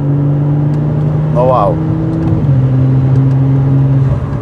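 BMW with a DCT gearbox downshifting on a winding road, its engine note stepping up with a quick rev blip midway, sustained and loud inside the car, with people talking over it.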